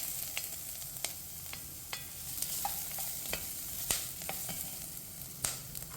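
Garlic cooks in a covered pan for carrot soup, a soft, steady sizzle with scattered small crackles and pops at close range.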